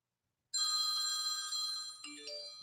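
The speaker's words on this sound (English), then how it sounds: "Well, evidently, I got to answer this phone call online here or something here." A telephone ringing loud and close, a steady bright electronic ring from about half a second in that shifts into a rising series of tones near the end, with no talk.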